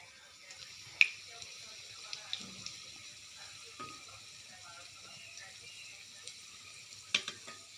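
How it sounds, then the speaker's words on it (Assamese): Pitha frying in hot oil, with a soft, steady sizzle and a few sharp pops and crackles at close range; no one speaks over it. "তেলখিনি গৰম হোৱাৰ পিছত পিঠাটো দি দিলোঁ।"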